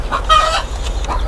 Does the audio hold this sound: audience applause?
no